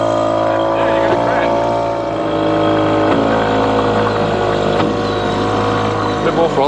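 Homemade boat's motor held at throttle on the water, a loud continuous engine drone with a steady buzzing tone, while people talk over it.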